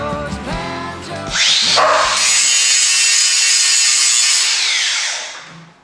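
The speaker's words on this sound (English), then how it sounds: "Fettling the spanner." Harsh, steady rasping of a file fettling a giant metal spanner, a long continuous scrape close up that fades at the end, with music or tonal sound in the first second and no talking.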